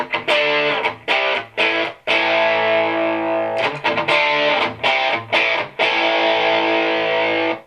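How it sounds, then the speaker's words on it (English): Electric guitar played through the lead channel of a PRS SE 50 amp, with saturated distorted chords and sustained notes ringing loud, cut by brief pauses and re-attacks in a rhythmic pattern; no talking. "It automatically increases the boost in distortion and saturation."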